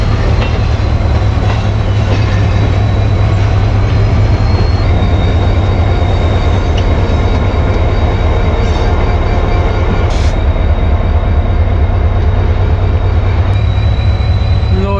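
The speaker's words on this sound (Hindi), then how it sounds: "वो इंजन जिसने 28 डाउन शालीमार एक्सप्रेस को लाहौर से कराची के लिए रहनुमाई करनी है वो भी पहुंच चुका है" A Pakistan Railways HGMU 30 diesel locomotive arriving to head the 28 Down Shalimar Express from Lahore to Karachi, a steady loud engine drone with rolling rail noise throughout, no voices.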